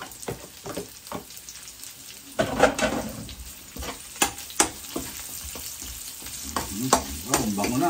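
Onion pieces fry in a pan with a steady sizzle. A utensil stirs and scrapes in repeated close strokes, and the sizzle swells louder partway through.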